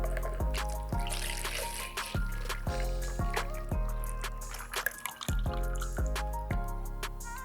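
Almond tofu liquid pours into a mold with steady dripping, trickling splashes, close and continuous over a rhythmic musical backing.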